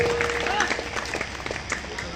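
An audience applauds to honour Raveena at a live Birha folk stage event, a dense spatter of clapping from the crowd mixed with voices and stage noise.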